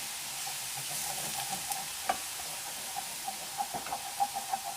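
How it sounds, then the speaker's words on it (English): Wine hitting a hot pan of bolognese mince sizzles with a steady hiss while a spatula scrapes the bottom, with a few sharper scraping taps, close and moderately loud. "we're gonna get some wine and deglaze this pan"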